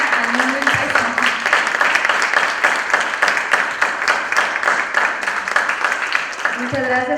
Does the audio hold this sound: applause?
yes